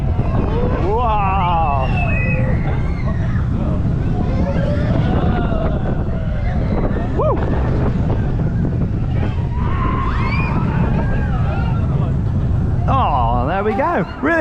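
Riders on the Farmyard Flyer roller coaster at Paultons Park are buffeted by rushing wind and rumbling track noise, with excited whoops and shouts throughout.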